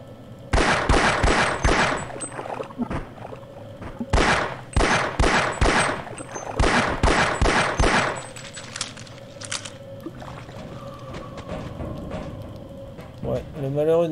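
Gunfire from the video game Half-Life blasts in rapid loud bursts, several clusters of quick shots separated by short pauses, then fades to quieter game ambience near the end.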